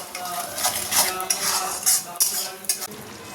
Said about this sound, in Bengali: গুঁড়ো মশলাগুলো সব দিয়ে দিয়েছি এটা একটুখানি নেড়ে ছেড়ে আর বাটা মশলাটা দিয়ে দেবো